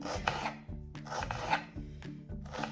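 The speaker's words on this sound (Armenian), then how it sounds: "Կտրատում ենք սոխը շատ հասարակ, ինչպես միշտ ճաշերի համար սոխ առածի" A knife chops onion on a board in a short series of rhythmic, close cuts and scrapes, with brief pauses between strokes and no talking.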